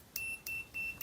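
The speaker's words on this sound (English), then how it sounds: "I'll have my multimeter on here on the beeping setting." A multimeter on its continuity setting gives three short, clean electronic beeps in steady succession, close and fairly quiet, while testing a switch on a twin-turbo V8 Porsche.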